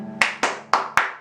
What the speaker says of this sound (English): And you clap.